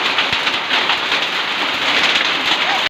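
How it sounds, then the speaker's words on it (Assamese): Heavy hailstorm rain during a late-December evening storm, a dense, steady close-up patter that continues without pause for about three seconds and then cuts off abruptly, with no voices. "এয়া যিটো আপোনালোকে ভিডিঅ' দেখিবলৈ পাইছে, সেয়া 27 ডিচেম্বৰত 8 বজাৰ পৰা 9 বজামানৰ ভিতৰত হোৱা শিল ধুমুহাৰ বৰষুণ"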